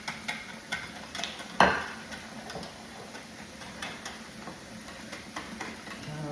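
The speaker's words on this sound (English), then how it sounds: "I want to stir this up a little. Beat that up just a little bit more." A spoon stirs and beats peach cobbler batter as the flour blends in. The result is a run of light, irregular scrapes and taps against the bowl, with one sharper clack partway through and no talking.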